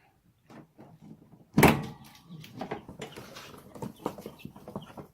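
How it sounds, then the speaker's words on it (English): A chicken coop door swings open with a sharp, loud clatter, followed by scattered shuffling, scraping and soft clucks from a small flock of ten young chicks inside. "I'm going to open the door"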